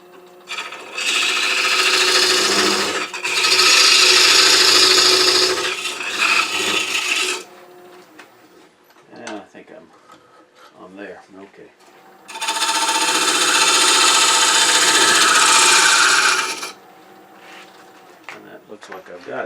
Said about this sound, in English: I'm going to do that by using the 1/4 inch parting tool to bring it down